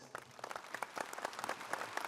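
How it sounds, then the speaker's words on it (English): Audience applause at a university commencement ceremony in an arena, a steady crackle of many hands clapping at moderate distance for about two seconds with no talk. "let's recognize them with a round of applause"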